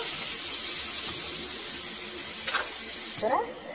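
Fried eggs are stirred into a spice paste in a hot pan, giving a steady sizzling hiss with a few soft scraping stirs near the end, close and moderately quiet.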